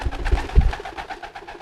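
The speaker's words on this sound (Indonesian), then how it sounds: "itu merpati posnya seperti biasa kalau baru giring keras" A homing pigeon coos nearby, a couple of low throaty pulses followed by softer rumbling calls, close and fairly quiet with faint background noise.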